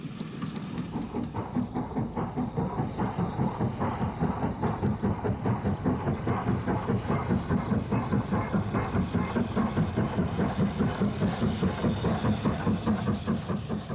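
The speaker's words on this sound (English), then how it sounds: "On Longwood Viaduct, Holbeck-based Jubilee Kolhapur on an excursion to Blackpool" Steam locomotive Jubilee Kolhapur, Holbeck-based, hauling an excursion train to Blackpool across Longwood Viaduct, a steady rhythmic chuffing and rolling rumble sustained at an even loudness throughout.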